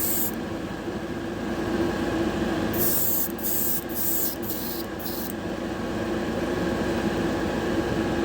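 Airbrush spraying colour-shift paint onto a Hot Wheels Mercedes custom car, a steady close hiss that runs throughout, with a few short bursts of brighter, higher hissing partway through as the trigger is pulsed.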